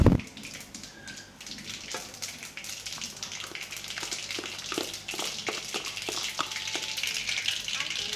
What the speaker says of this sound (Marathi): आपली मोहरी तडतडलेली आहे